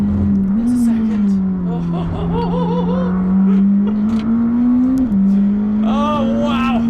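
A McLaren 620R sports car on slick tires runs at full throttle down a fast straight, its engine droning loud and steady with small pitch shifts as it climbs and eases, under a voice talking.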